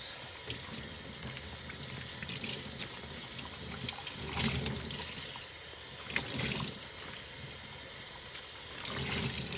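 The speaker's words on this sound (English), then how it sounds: "So it's going to take a lot of washing. But I'm going to get it kind of rinsed out." Excess dye rinsed out of an ice-dyed tencel weaving warp under running water, a continuous close hiss and trickle with small swells of splashing as the yarn is handled, with no talk.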